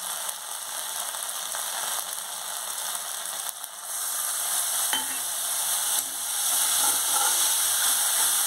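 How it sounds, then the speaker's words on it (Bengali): Ground cumin and spices frying in oil for a Bengali fish curry, a steady close sizzle with scraping and stirring ticks throughout, no voices. "এবার মশলাটা ভালো করে কষে নিতে হবে"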